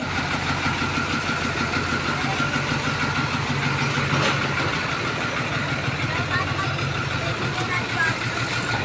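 A motorcycle engine idles steadily at close range, a continuous low throbbing hum under voices talking nearby at a road concreting site.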